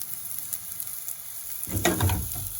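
Garlic and jalapeno chilies hit a hot frying pan for a spicy arrabbiata sauce: a quiet, crackling sizzle builds, then bursts louder and fuller as the chilies go in, heard close with no talking.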